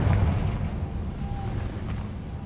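A Confringo fire spell in Hogwarts Legacy bursts with a short deep boom at the start, followed by a low rumbling tail and a brief faint tonal shimmer as it dies away.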